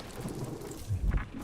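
Rumbling thunder with steady rain in a video game storm, a deep roll swelling in the middle of the short stretch over a constant hiss of falling rain.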